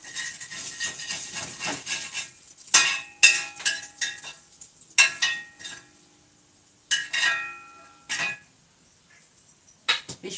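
Fish frying in a kadai for a Sunday fish fry, heard as uneven bursts of sizzling with metal clinks and scraping from stirring, broken by short quiet gaps.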